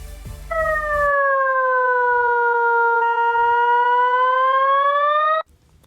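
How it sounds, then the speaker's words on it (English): Desmos graphing calculator sonifying a graph as a pure sustained tone with harmonics, its pitch dipping slowly and rising again over about five seconds, loud and alone after a brief noisy start. "I am using the button here graph to listen to the tone with respect to our graph."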